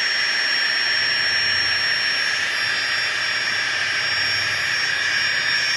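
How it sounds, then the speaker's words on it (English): Electric pump inflating camping sleeping mats at a bushcraft day camp, a loud steady whining whir with a high-pitched tone, constant throughout with no talk. "Takes about a minute and a half to inflate these mats."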